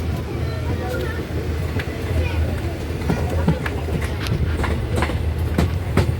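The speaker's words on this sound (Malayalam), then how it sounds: "നമ്മൾ ട്രെയിനിൽ കയറിയിരിക്കുകയാണ്" Steady low rumble of a moving train heard from inside, with rhythmic clacks of wheels on track and muffled voices in the carriage.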